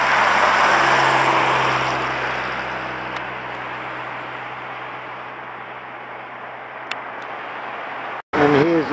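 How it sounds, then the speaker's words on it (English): Army vehicles roll along the E6 road near a base by a cruise ship docking area, a steady broad rumble of engines passing continuously, fairly close and loud, fading slightly before cutting off abruptly. "Loads of army vehicles going along the E6 from a base which is very near the cruise ship docking area."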